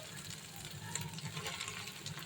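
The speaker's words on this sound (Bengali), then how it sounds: "পেঁয়াজ লঙ্কা দিয়ে ওটাকে ভেজেছি" Soaked chickpeas fry with onion and chilli in a hot pan, giving a steady soft sizzle with faint stirring clicks, heard up close with no talking.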